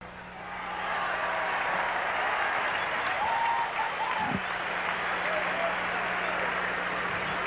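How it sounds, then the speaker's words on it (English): Baseball crowd applauding a nice catch in the loge seats during a 1984 Mets at Astros game, a steady wash of clapping and cheering from a large distant crowd filling the whole stretch with no talk. "Fans applaud a nice catch by somebody in the loge seats"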